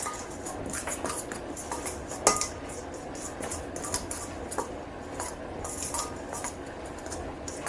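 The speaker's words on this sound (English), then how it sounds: "I'm just going to use this and stir this into my dry ingredients" Butter is stirred into freshly milled soft white wheat flour for gingersnap cookies, heard as steady close scraping and clinking of a utensil against a bowl with one sharper knock, without talk.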